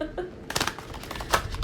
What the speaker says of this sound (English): Yes, I shuffled them from the sides.